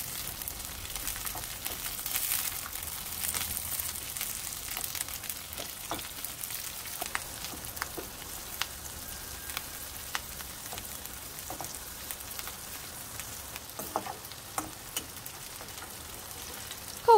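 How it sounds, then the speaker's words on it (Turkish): Green peppers sautéing in a pan, a soft continuous crackle dotted with small sharp pops, fairly quiet and close, with no voices. "Önce yeşil biberi kavuruyorum."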